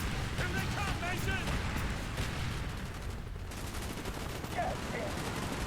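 Rapid, dense machine gun fire in the video game Call of Duty Black Ops, mixed with bursts of other gunfire and voices.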